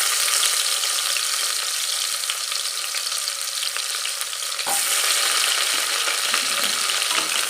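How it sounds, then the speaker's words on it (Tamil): Finely chopped onions fry in hot oil for mutton bone kurma, a steady dense sizzle that continues unbroken throughout, with a brief stirring scrape partway through. "வெங்காயம் நல்லா வதங்குது"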